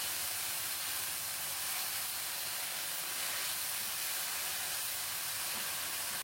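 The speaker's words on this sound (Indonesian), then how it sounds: "masukkan potongan daun bawang dan digonsreng-gonsreng kembali" Spring onion pieces sizzle as they are stir-fried in a pan, a constant loud hissing spray that barely changes throughout and cuts off sharply at the end.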